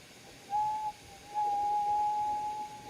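A thin, high, steady whistle from a hot piece of glass in a glassblowing studio sounds briefly, pauses, then returns and holds for over a second over a quiet background.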